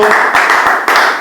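Congregation clapping steadily in rhythm at a prayer service, a dense sustained patter of hands with voices faintly mixed in.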